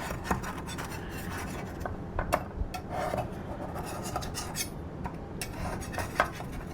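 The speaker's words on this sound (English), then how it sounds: "I'm just gonna run my knife around the edge of these and then dump it out on this platter" A knife scrapes around the edge of a pan of mini pineapple cakes made from cake mix, a close, faint rasping and metallic scraping with small clinks, with no talk.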